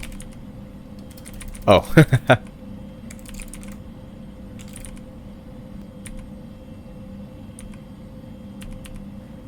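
Quick burst of tapping on a phone or computer keyboard to book a rental house, four sharp taps close together, close by in a quiet room with a faint steady hum and a brief spoken word nearby.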